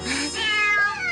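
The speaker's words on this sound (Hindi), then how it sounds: "मैं उन्हें बिल्लियों को खिला देती हूँ" Hungry cartoon cats eating sushi let out a quick run of high, sliding meows, close and clear, with no talking.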